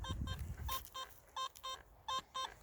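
A Nokta Makro Simplex+ metal detector sweeping a freshly ploughed field gives off several short, clean electronic beep tones in quick pairs, with a faint scrape of soil underneath.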